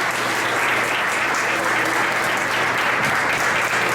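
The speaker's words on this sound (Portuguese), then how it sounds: "Será que você pode aplaudir o Senhor por isso?" A church congregation applauds at an evening worship service, a dense, steady wash of clapping that holds at an even loudness throughout, with no gaps.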